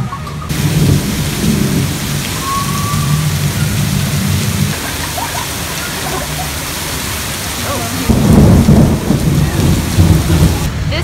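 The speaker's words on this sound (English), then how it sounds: "It's raining, but I don't care." Heavy rain pours down steadily while deep rumbles of thunder roll in two long waves, loud and close, with no one talking.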